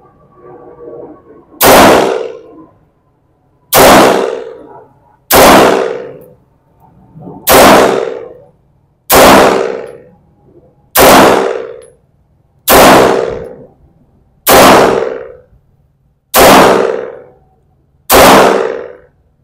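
Ten sharp, loud reports from a Sarsilmaz Kilinc 2000 Light pistol fired at a range, spaced about two seconds apart, each with a short ringing tail; no talking.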